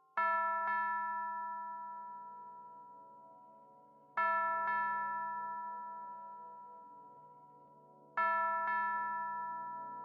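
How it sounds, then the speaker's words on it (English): Silver bell chiming in three evenly spaced double strikes, each bright ding followed by a long sustained ring that slowly fades, alone and fairly close. "The silver bell chimed in."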